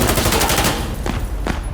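Automatic gunfire from the video game Insurgency Sandstorm rattles loudly and close in a rapid burst, followed by two separate shots.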